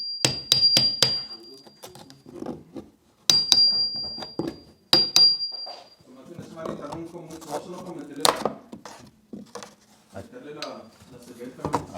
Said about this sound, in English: we're gonna knock this wall down to countertop level